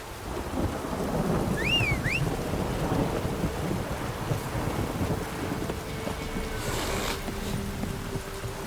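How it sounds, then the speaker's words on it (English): A thunderstorm in The Witcher video game: lightning strike thunder with rumbling rain noise throughout, a brief high whistling tone early, moderately loud and continuous. "Lightning strike?"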